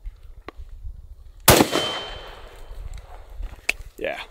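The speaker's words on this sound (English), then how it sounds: "Full speed, 308, no suppressor. It's pretty noisy." A single unsuppressed .308 rifle fired at full speed, a sharp loud crack followed by a ringing decay outdoors, with faint handling noise and small clicks around it.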